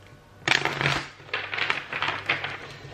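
A deck of tarot cards being shuffled in several quick riffling bursts, crisp papery flutters close by with brief pauses between them.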